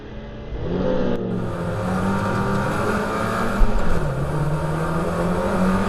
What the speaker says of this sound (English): So yeah, quite a lot of wheel spin on the left side there.